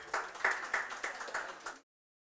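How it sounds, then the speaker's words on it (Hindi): A class of students claps for a classmate in a short burst of uneven, close applause that ends abruptly. "तालियां हो जाए लड़के के लिए।"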